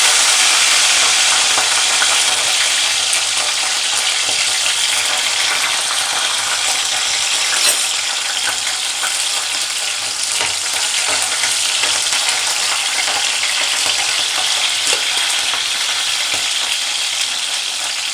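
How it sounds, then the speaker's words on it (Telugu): Green chillies dropped into hot oil sizzle loudly and continuously, a dense close crackle that eases slightly over time, with occasional stirring and no voices. "ఇప్పుడు మనం ముందుగా నూనెలోకి పచ్చిమిర్చి వేసుకుంటున్నాం. నూనె సురసురా అంటుందబ్బా."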